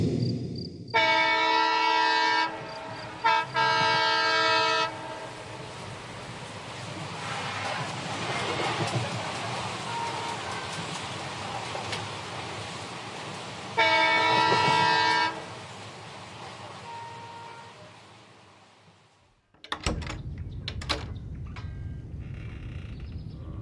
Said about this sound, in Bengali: হুইসেল বাজিয়ে ট্রেন ছেড়ে দিল।